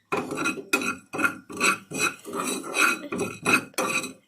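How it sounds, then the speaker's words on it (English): Spices dry-roasting in a pan for dahi bara masala while a spoon stirs them in steady repeated strokes, producing rhythmic loud scraping and clinking of metal against the pan, close and without speech. "We will take a spoon and stir it until it roasted."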